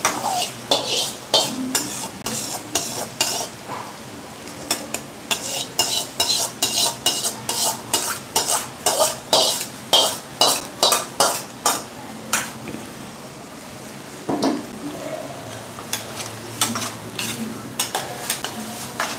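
Cooked moong dal being stirred into chayote kootu in a pan, heard as a long run of rhythmic spoon scrapes and clinks against the metal over a soft sizzle, close and steady with brief pauses, no talking.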